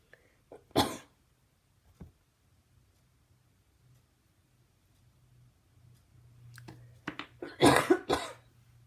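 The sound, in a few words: cough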